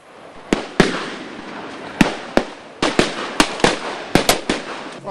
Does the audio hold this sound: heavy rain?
no